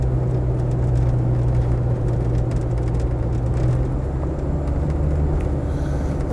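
Range Rover Vogue SE soft-dash with a 300TDi diesel and automatic gearbox, cruising with a steady low engine drone and road rumble, loud and continuous, no talking.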